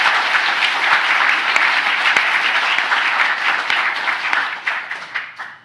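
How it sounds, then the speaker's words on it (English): A typography awards ceremony audience applauding absent award-winning students, dense sustained clapping from a large crowd that thins and fades out at the end. "but let's give a nice round of applause for them."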